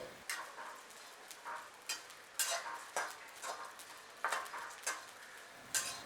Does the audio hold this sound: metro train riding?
no